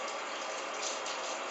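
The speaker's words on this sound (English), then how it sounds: "You switch on the water." Tap water rushes steadily through the coils of a wort chiller used for home beer brewing, making a dense, even gushing hiss that stays close and constant.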